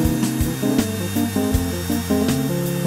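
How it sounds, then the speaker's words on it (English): A power router cuts MDF along a straight guide, a loud continuous motor whine with shifting pitch and periodic gritty bursts as the bit bites the board. "Make sure to move the router from left to right along the guide to avoid kickback."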